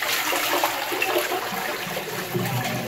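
A newly installed toilet bowl, fitted on a 100 mm sewer pipe, flushes with a loud, steady rush of water, close by and continuous, tapering slightly as it drains.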